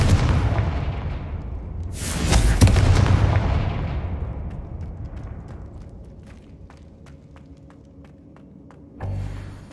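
A Confringo fire spell is cast in a Hogwarts Legacy dungeon: a loud, roaring blast swells and then slowly fades through a reverberant space, followed by a sharper thump near the end.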